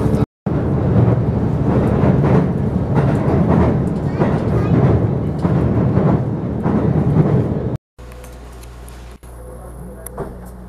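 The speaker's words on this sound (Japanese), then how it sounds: "列車はですね、途中の穂高駅に到着しました。" An HB-E300 Resort View Furusato train pulls into Hotaka station. A loud, steady rumble of running wheels heard from inside the car ends abruptly, giving way to a quieter, humming stopped interior.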